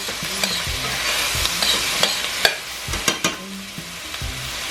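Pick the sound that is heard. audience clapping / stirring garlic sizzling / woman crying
stirring garlic sizzling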